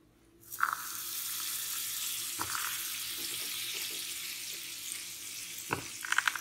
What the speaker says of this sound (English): three tablespoons of butter and we will melt butter